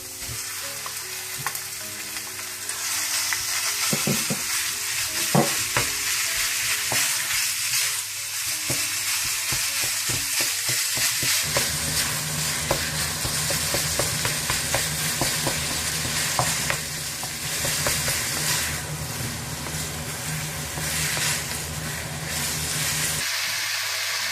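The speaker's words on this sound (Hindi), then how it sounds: "थोड़ा सा भूनने के बाद आप इसमें चिकन डाल दें" Chicken frying and being stirred in a pan for spring roll filling, a loud, steady sizzle with scraping stir strokes, growing denser about halfway through, no voices.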